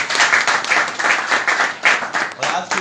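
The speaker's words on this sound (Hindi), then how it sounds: "मैं चाहता हूं पांडे जी के लिए जोरदार तालियों से सम्मान करें" Audience applause honoring Pandey ji at a company meeting of Moral Group of Companies, dense clapping surging in several loud waves with a few voices mixed in.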